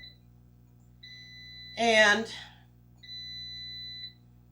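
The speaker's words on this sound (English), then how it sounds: "there's our timer." Kitchen timer beeping in an air-fryer cooking session: a steady high electronic tone sounds for about a second, breaks while a voice speaks briefly, then resumes for another second, fairly faint against a quiet room.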